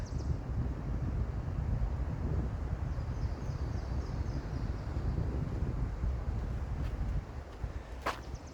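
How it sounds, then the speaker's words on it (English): Wind rushes steadily through pine trees along a trail walk on Jamestown Island, a constant low roar with no pause, with a faint bird chirp near the end. "we got the wind blowing right now up in the pine trees"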